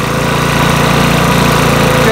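A Makita four-stroke leaf blower engine runs steadily nearby, a loud, even idling rumble with a regular low pulsing throughout.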